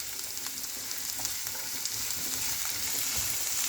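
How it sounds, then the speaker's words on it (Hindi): A large finely chopped onion frying in a pan over medium-high heat, a steady close sizzle with soft stirring scrapes throughout, no talking. "अब इसमें बारीक कटी हुई प्याज, एक लार्ज प्याज मैंने ले ली थी, उसको मैंने चॉप कर दिया था। इसको 2 से 3 मिनट के लिए पकाना है"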